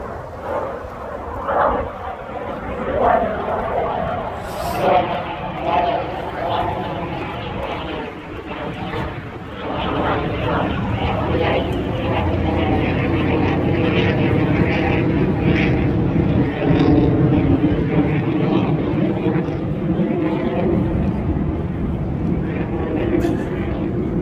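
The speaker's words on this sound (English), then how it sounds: "jet passing by" A jet airplane passes overhead, its broad, steady roar swelling in the second half and staying loud to the end, with voices faintly present underneath.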